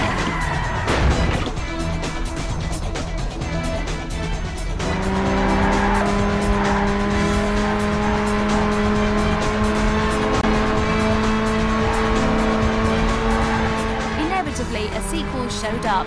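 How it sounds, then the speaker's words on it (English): Racing cars from the PS2 game Burnout roar continuously with sustained engine tones and squealing tires, loud and close for the whole stretch, with a brief burst of crashing or skidding near the start. "get a friend to join you in the PS2's best multiplayer racing experience"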